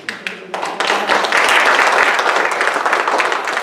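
Applause in a church service, starting with a few scattered claps and swelling into steady congregational clapping that holds to the end.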